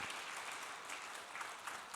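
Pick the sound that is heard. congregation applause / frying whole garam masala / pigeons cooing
congregation applause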